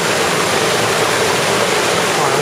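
A waterfall pours into a pool, giving a loud, continuous rushing hiss with no break.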